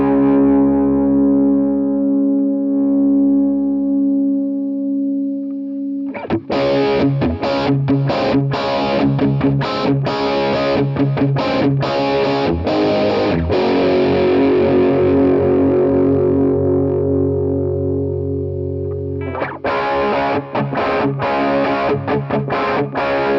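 Electric guitar played through a Quad Cortex modeler on a warm Vox-style amp preset with drive, heard alone as a sustained note, then bursts of distorted strummed chords, a lingering ring-out and a final loud strummed passage.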